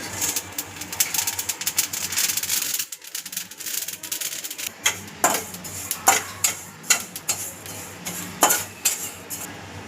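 Sesame seeds dry-roasting in a pan while mutton curry masala is prepared, with scraping and stirring clatters that grow into a string of distinct utensil knocks and scrapes near the end, no talking.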